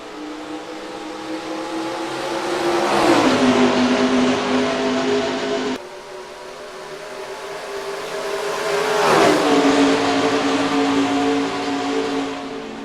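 Race cars roar off at the start of the Southern 300 at Darlington in NASCAR Racing 2003, engines loud and close as two rising waves of acceleration sweep past, each climbing in pitch with a Doppler drop before the next pack arrives.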